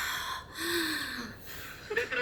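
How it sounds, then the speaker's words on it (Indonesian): A person draws in a deep breath, a short audible inhale near the start, close and clear, with speech-like voice sounds around it. "kamu tarik napas dulu"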